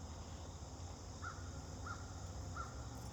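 Three evenly spaced caws from a crow sound at a distance over a steady outdoor hum and background noise.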